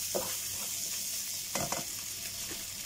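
An egg fries in a pan for fried rice, giving a steady close sizzle broken by a few sharp scrapes and clinks of a utensil, with no talking.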